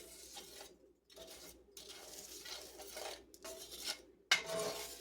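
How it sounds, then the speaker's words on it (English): Whole spices scraped and stirred around a hot cast iron skillet for garam masala, producing dry rasping, rattling bursts separated by brief pauses, close and fairly quiet. "we're just going to move this around in the skillet to allow those spices to start to toast a little bit and release their oils"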